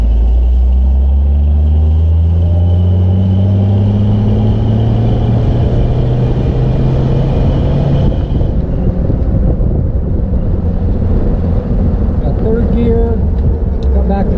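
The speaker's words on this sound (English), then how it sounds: "Truck sounds great." A truck engine runs while driving, a loud steady rumble with rising gear-change sweeps, then a rougher roar with wind buffeting the microphone.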